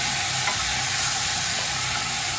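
Potatoes fry in a pan, a loud, unbroken broadband hiss of hot oil close by, steady throughout with no stirring accents or talk.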